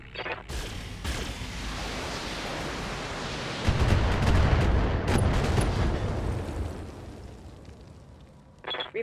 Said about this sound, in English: Taking the shot.